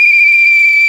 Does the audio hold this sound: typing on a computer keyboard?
no